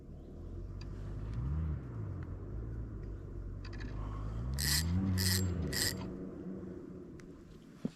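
A distant car engine rumbles and revs in uneven surges, rising and dropping off repeatedly as it stalls, stuck in the ground, with a few sharp hissing bursts midway.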